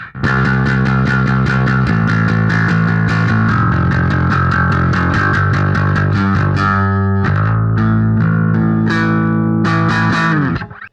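Electric bass guitar with its tone knob rolled off, a warm, softened, sustained line played loud and continuously, through a slight effects-processed sheen, ringing out at the end.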